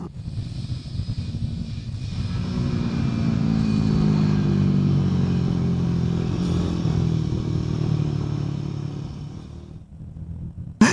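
A Royal Enfield Guerrilla 450 motorcycle ridden on a racing circuit, its engine droning loud and steady as it passes close, rising then holding before fading away near the end, with no talking.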